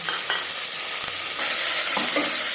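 Onion and tomato frying in hot refined oil for mutton curry, a dense steady sizzle with a few soft stirring scrapes spaced through; no speech.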